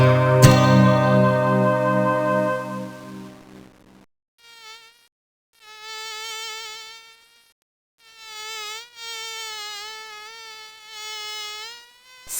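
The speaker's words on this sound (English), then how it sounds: "How many flies are buzzing through the air?" Buzzing flies in the 1994 educational video game Gus Goes to Cyberopolis, several short, high, wavering synthetic buzzes in separate bursts, following a loud tonal chime at the start.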